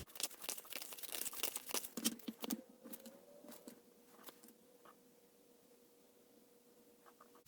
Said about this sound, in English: So I'm going to shuffle some more cards to see what message is meant to reach you right now.